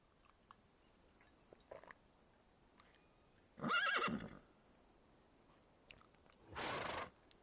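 A horse in the video game Conan Exiles gives two loud whinnies a few seconds apart, with faint chewing and soft clip-clop sounds in the quiet gaps.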